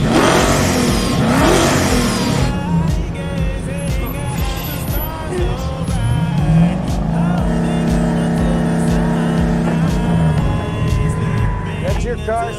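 A car engine revs hard and accelerates with rising, sweeping pitch, loud and close throughout the clip, while someone talks over it.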